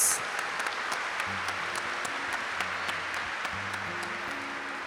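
An audience at a televised Catholic worship programme claps, moderate and fairly distant, beneath sustained music.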